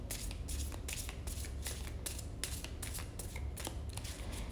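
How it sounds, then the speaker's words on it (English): Playing cards being shuffled continuously, a steady run of crisp riffling bursts close up, with no voices. "So I am starting with just shuffling."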